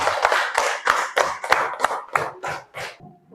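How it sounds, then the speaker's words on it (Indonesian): A classroom group claps hands after group presentations, about ten distinct bursts of rhythmic, fairly close unison clapping that accelerate slightly before stopping, with no talking over it. "Sekarang kita beri tepuk tangan untuk kita semua."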